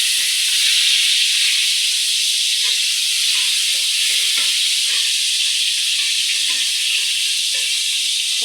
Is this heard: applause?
no